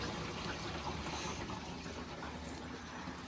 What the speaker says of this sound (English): You're pouring in there.